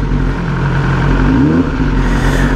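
BMW M1000 R motorcycle with a Brentune exhaust valve tune runs steadily and loud, a dense engine drone with a faint rise in pitch near the end, no voices over it.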